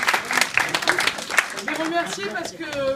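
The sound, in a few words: audience applause for two general practitioners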